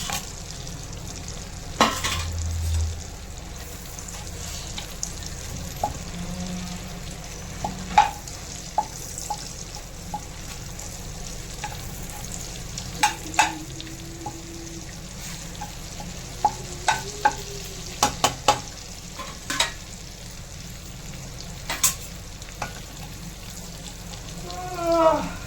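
Cinnamon bark, cardamom and bay leaf fry in melted butter in a pan for paneer butter masala; a soft continuous sizzle with scattered small pops and crackles, plus occasional scrapes and clinks of stirring, fairly quiet and without talk.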